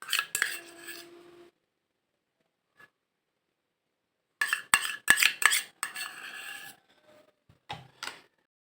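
Glycerin mixture being stirred into water for a homemade shikakai and amla shampoo, heard as clinking of a utensil against a container in short bursts separated by long silences.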